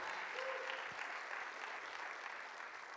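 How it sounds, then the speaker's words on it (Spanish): Steady crowd applause for the Lord at a church worship service fills the whole stretch, a dense even patter of many hands clapping at moderate, distant-sounding loudness. "Dale un aplauso al Señor."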